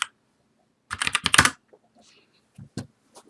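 A short flurry of keystrokes on a computer keyboard as a stock ticker symbol is entered for day trading, close and crisp, followed by a few isolated taps, with no talking.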